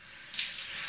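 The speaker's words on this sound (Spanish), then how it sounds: "dejar que el agua fluya un poquito" Tap water runs while a brass instrument is rinsed at a sink: a steady close hiss that swells into a stronger gush about a third of the way in and keeps flowing, with no talk.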